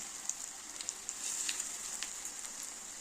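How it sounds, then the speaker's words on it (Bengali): Prawn fritters frying in oil, a faint, soft hiss with scattered light crackles and pops, heard close but quiet with no other sounds. "প্রত্যেকটা এরকম এরকম করে ভেজে নেবো"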